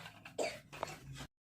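A girl gives two short, close coughs with a brief pause between them, fairly quiet and with no talking.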